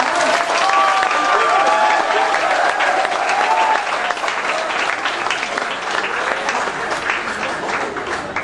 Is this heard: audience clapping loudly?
yes